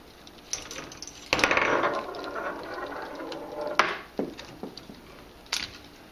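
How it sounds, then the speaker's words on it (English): A K'nex motor is pulled out of its plastic support, giving close, dry plastic scraping and clicking, with a louder rattling burst near the start and a few sharp knocks afterward. "Then pull the motor out."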